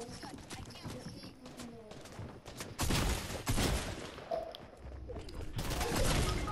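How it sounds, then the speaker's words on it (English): Gunfire in Fortnite Battle Royale aimed at the player comes as dense, rapid bursts of shots, loud and sustained through most of the stretch, with a low voice faintly underneath. "People are shooting me."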